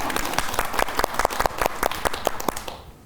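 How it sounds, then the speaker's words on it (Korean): A television studio audience bursts into lively applause, sharp individual claps standing out from the crowd's steady patter before it fades away at the end. "자, 박수로 한번 시작해 보겠습니다."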